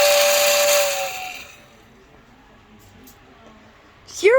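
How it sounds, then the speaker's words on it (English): Model toy train steam whistle blowing loud and hissy for about a second and a half, then fading into quiet room tone, with a brief chirpy squeal near the end. "This is the whistle."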